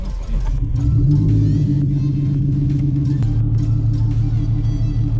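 A boosted Ford Mustang with a manual gearbox restarts after stalling and rumbles loudly up close, its deep engine note swelling and holding steady with light throttle changes.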